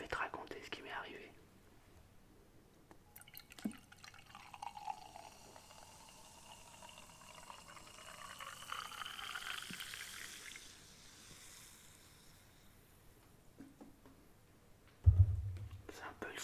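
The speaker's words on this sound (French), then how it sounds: "C'est un peu le son de l'effervescence." An effervescent drink poured in an ASMR bar roleplay fizzes with a soft, sustained crackling hiss that swells and fades, close and quiet, with a thud near the end and a voice whispering.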